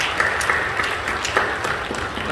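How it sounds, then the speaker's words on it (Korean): Church congregation applause during a Korean worship service, a moderate spread of clapping hands with a few sharper individual claps standing out, fairly close and continuous for a couple of seconds. "박수로 정리해 주십시오."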